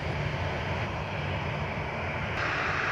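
A departing airliner climbs away from runway 25 at Montego Bay, Jamaica, its engines a steady broad roar with a low rumbling drone, heard from outside at a moderate distance and holding constant.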